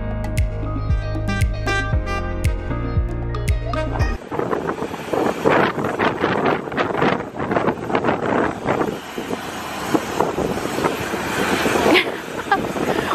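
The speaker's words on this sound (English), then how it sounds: "Oh my god, it's so windy." Strong gusting wind buffets a microphone outdoors around a ferry boarding at Southampton, a loud steady rumbling roar that begins after about four seconds of music and continues to the end.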